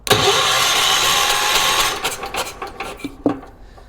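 Starter motor on a vintage 1980s UTV that won't run cranks loudly and harshly for about two seconds, then sputters and winds down into uneven, fading chugs.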